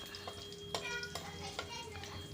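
Cinnamon, clove and a bay leaf fry in oil in a pan for okra gravy, a faint soft sizzle broken by a few light spoon taps against the metal.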